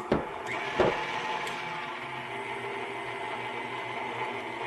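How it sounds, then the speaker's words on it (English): A stand mixer kneading bun dough, a steady motor whir with a couple of knocking bumps at the start, then an even mechanical hum continuing alone. "Now we're going to add that to our mixer and go ahead and turn it on."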